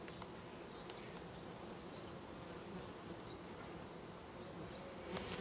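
Honey bees drone in a dense, continuous buzz at an open hive colony whose queen had been fully isolated, loud and close throughout with no talk.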